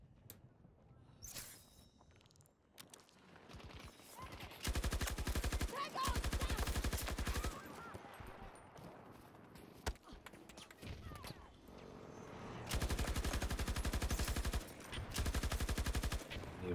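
Bursts of rapid RPT-31 light machine gun fire in a first-person shooter video game, long sustained volleys separated by quieter gaps with footsteps, distant gunfire and a voice talking.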